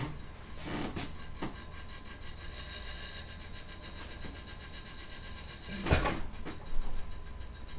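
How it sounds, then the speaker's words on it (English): Scraping and rubbing of hardware during a desktop PC build with a Ryzen 5 2400G, a continuous rough friction sound close to the mic, with a louder scrape near the end. "Oh, that's what I'm hearing you rubbing."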